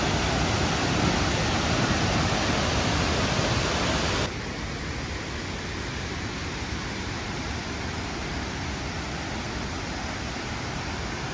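Ravana Ella waterfall in Sri Lanka gives a steady, dense roar of falling water that fills the whole stretch, dropping slightly in loudness partway through but continuing unbroken, with no voices.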